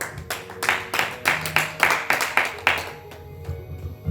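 A church congregation claps in a steady rhythm of sharp, loud hand claps, about a dozen beats that end and give way to quieter room sound.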